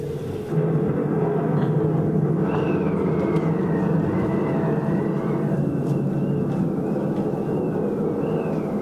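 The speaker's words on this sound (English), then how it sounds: "Storm's getting worse." Storm sound effect in a stage play, a loud, steady roaring rumble of wind and rain that swells in and holds throughout, with a faint whistling tone drifting above it.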